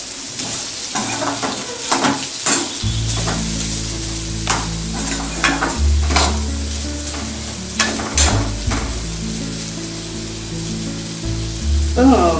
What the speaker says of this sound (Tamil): இது ஒரு 1/4 மணி நேரம் நல்லா அதை மொறுமொறுன்னு நல்லா ஃப்ரை ஆகுற வரைக்கும் நல்லா வச்சுக்கணும்